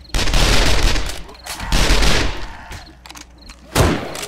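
Gunfire in the video game 7 Days to Die during a blood moon, loud rapid bursts of shots with dull thumps in between, close and dense, with players talking.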